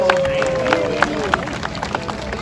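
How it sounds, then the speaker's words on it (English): Brief crowd applause and murmuring for Denali, an American bald eagle, at a wildlife show in a theater, with light scattered claps over a busy background of voices and a sustained tone. "give her an applause"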